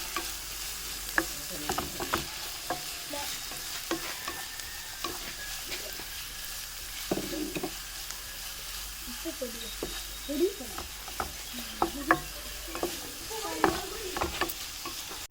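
Onions sautéing in a pan for a chicken masala, a soft continuous sizzle broken by frequent scraping and stirring taps, some louder clacks of the utensil against the pan.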